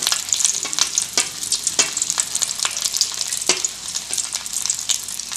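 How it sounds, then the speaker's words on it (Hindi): Chicken drumsticks deep-fry in hot oil, a loud, close, continuous sizzle with crackling pops and occasional stirring knocks. "इसके बाद हम इसको बिल्कुल अंदर तक छोड़ देंगे डीप फ्राई के लिए"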